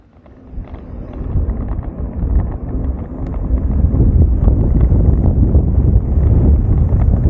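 Strong wind roars and buffets the microphone outdoors while leaving a campground on a cross-Canada tour, a low rushing noise that builds from soft to a loud, steady gusting roar with no talk.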